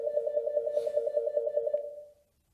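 A telephone rings with an incoming call, a fast warbling electronic trill repeated steadily for about two seconds at close range before stopping abruptly into silence.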